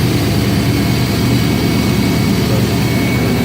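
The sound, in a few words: car heater running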